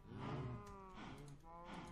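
Cattle mooing in the Minecraft video game, two drawn-out lowing calls in a row, loud and close, with no talking over them.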